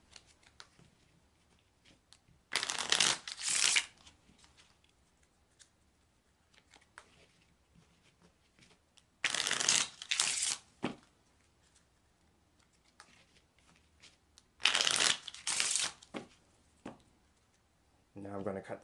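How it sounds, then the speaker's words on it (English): A deck of Kipper oracle cards is shuffled by hand in three separate bursts of quick riffling, each lasting about a second or two, with long quiet pauses between them and faint handling noises. "I'm going to shuffle for each card."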